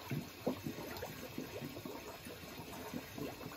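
Water bubbling and gurgling into a bucket while air is purged from a gas hot-water heating system, faint irregular bubbling bursts throughout with no talking.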